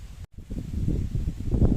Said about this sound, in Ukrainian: Дивіться, який вітроган.